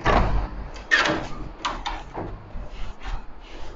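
A door in a kitchen and living area at a Vipingo holiday home is opened, giving a close series of rattles, slides and knocks over a few seconds, with no one talking.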